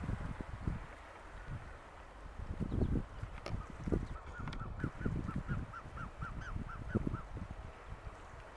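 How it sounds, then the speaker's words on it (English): Waterfowl calling from a boat in Alaska, a series of about a dozen short, evenly spaced honking notes at moderate distance, over steady low engine and water rumble. "He's calling to the other birds that are over here."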